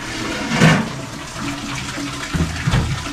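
Water pours and splashes steadily into a container nearby, with a couple of heavier gushes, no talking.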